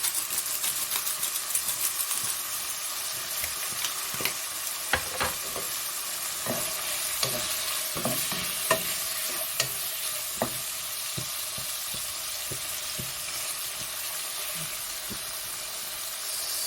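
Meat pie filling, seasoned with salt and lots of pepper, sizzles and browns in a pan, a steady frying hiss broken by scattered sharp clicks and scrapes of stirring, close and moderately quiet with no talk.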